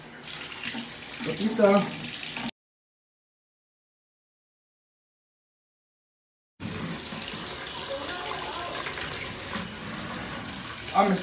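Water from a shower runs steadily with a hissing spray, interrupted by a few seconds of silence, while a person speaks briefly over it.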